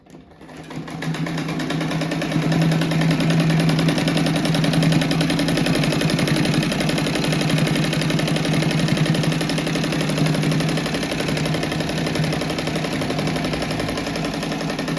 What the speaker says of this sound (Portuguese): agora eu já costurei os 8 retângulos, agora eu vou costurar de 2 em 2